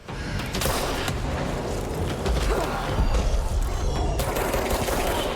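Gunfire in the video game Control comes as dense, rapid volleys of shots and impacts, loud and continuous for a few seconds, with no clear gaps between the bursts.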